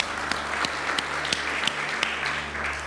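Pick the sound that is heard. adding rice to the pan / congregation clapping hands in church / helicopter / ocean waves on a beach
congregation clapping hands in church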